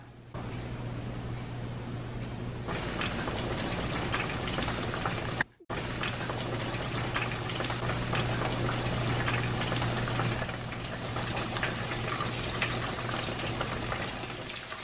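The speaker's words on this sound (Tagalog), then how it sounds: "Ipiprito na natin sila." Breaded tilapia fries in oil with a quiet, even bubbling hiss and a low steady hum. It cuts out briefly midway, then resumes unchanged.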